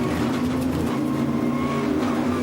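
Race cars lap during a 2009 European Le Mans Series round in rain-hit conditions. The engines give a continuous, fairly loud drone with a steady pitched tone and no break or talk over it.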